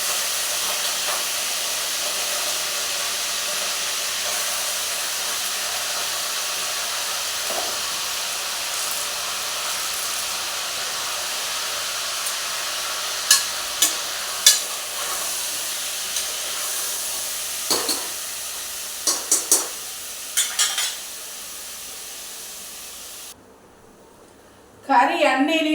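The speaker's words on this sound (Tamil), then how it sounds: "கறி எண்ணெயிலேயே நல்லா வெந்துட்டு இருக்குது இல்லைங்களா?" Meat frying in oil for a curry sizzles as a steady, loud hiss throughout, with occasional clinks of utensils and a spoken voice over it, the hiss cutting off near the end.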